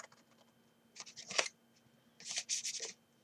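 Scissors snipping through cardstock while making an exploding box card, two close bursts of crisp cutting strokes separated by a short pause.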